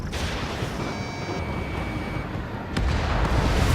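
Missile fire and explosions in Ace Combat 7, a dense roaring rumble of jet and blasts that swells into a heavier, louder boom near the end.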